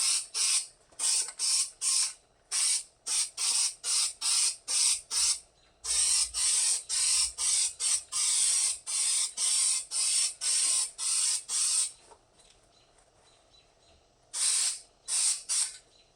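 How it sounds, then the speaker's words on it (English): Short hissing bursts of spray coating applied to Jeep J10 parts, a rapid run of repeated close blasts with brief gaps between them, then a pause before a few more bursts. "once we're done spraying this and then letting this dry."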